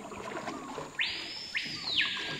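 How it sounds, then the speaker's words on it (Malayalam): Birds by an Amazon jungle creek give a few loud, drawn-out whistling calls, each starting with a sharp rise, over a faint steady background. "ഞാനിപ്പോൾ മിണ്ടാതിരിക്കുവാണെങ്കിൽ പക്ഷികളുടെ സൗണ്ട് മാത്രമേ ഉള്ളൂ."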